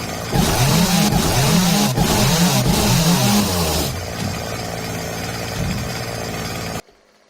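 Chainsaw running in 7 Days to Die, a loud, close motor revving in wavering swells before settling into a lower idle and cutting off abruptly at the end, with no talk.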